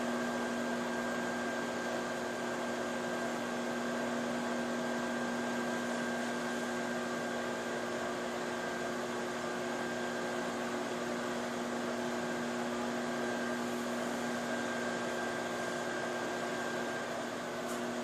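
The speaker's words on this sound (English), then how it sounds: "I hear some good sizzling going on." A steady whirring microwave hum with a constant mechanical tone runs throughout, with faint crackly sizzling of butter and garlic beneath it and no talking.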